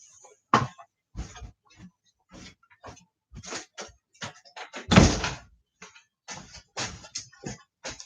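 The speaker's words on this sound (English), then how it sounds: "I'm just going to close the door in my office." An office door being pushed shut, heard as a few close, loud thuds and knocks among scattered small bumps and handling noises, with the strongest single bang near the middle.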